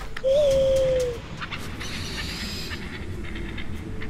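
A hooting owl companion call from the video game Far Cry Primal sounds once, a sustained tone lasting under a second, followed by ambient game noise with soft scattered clicks.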